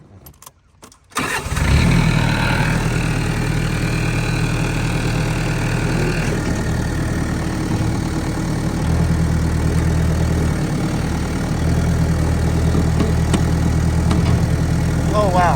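A tractor engine starts with a short cranking burst and then settles into a loud, steady, low idle that runs throughout without talk.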